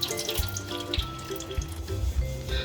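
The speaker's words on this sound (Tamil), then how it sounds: "மட்டன் இல்ல பீஃபை வந்து நல்லா வாஷ் பண்ணி எடுத்து வச்சுக்கோங்க, ஃபில்டர் பண்ணி வச்சுக்கோங்க." Tap water running steadily into a sink while beef is washed, with irregular splashes and drips as the meat is rinsed.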